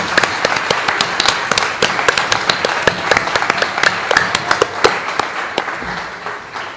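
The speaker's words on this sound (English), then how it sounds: "I feel like we need to just do one more round of applause for that." Audience at a community unity closing ceremony bursts into loud, sustained applause, dense clapping with sharp individual claps standing out throughout, close and filling the whole stretch.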